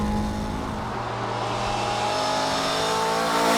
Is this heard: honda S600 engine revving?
yes